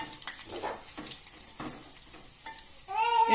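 Dried red chillies frying in a pan for a drumstick-leaf chutney, a soft steady sizzle broken by a few scraping stirs, closing with a brief rising whistle-like tone.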